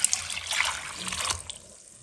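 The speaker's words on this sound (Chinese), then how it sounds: "加入清水" Clear water poured into a pot holding yam slices, chopped red dates, black beans, job's tears and lotus seeds, a steady trickling splash at moderate level that eases off toward the end.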